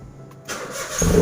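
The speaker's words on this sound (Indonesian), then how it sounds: "kita hidupin mesin mobil lebih dahulu ya teman-teman" A Karimun Estilo 1000cc car engine cranks briefly and then catches, settling into a steady running rumble, close by.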